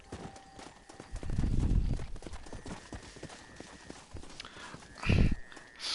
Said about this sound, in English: Alright, so there's my horse.